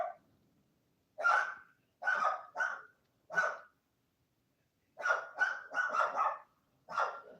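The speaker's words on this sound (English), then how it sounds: "Silly dogs." Several dogs barking in short, loud bursts, a few clustered barks followed by a pause and another run of rapid barks, close by with no talk.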